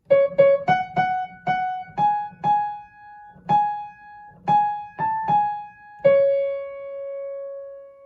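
Piano chords struck one after another at a moderate, uneven pace, each ringing briefly before the next, ending on a sustained held chord.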